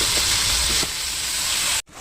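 Tomatoes dropped onto fried onions for pulao set off a loud, close, hissing sizzle that eases slightly partway through, then a sudden cut and quieter hiss at the end.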